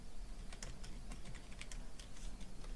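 Steady, quiet clicking of keys on a computer keyboard while entering details into an Outlook calendar, close by, with irregular taps and short bursts over a low room hiss and no speech.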